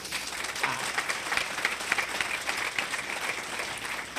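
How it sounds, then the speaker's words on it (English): Lively applause from an awards banquet crowd at a chamber of commerce ceremony, continuous clapping with individual claps standing out close by. "a huge round of applause to the Meadville Tribune and Crystal and her team at Inspire as well"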